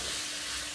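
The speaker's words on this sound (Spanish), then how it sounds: "Ahora vamos a utilizar el mismo sartén para freír la carne" Seasoned beef fries in a pan for Bolivian pique macho, a brief, even, bright sizzle with soft hissing and no voices.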